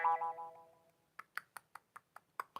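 A jaw harp makes a gravity-coil-style effect: a twangy buzzing tone fades out, followed by a string of quiet, evenly spaced springy plucked boings, faint and close.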